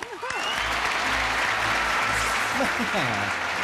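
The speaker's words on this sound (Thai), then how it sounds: "ขอเสียงปรบมือนะครับ" An audience at a Thai academic quiz competition final breaks into steady applause, with a host's voice briefly heard over the clapping.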